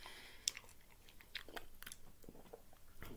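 Soft, close chewing of a meal of chips and salmon, with a few crisp crunches and bites scattered through a quiet mouthful.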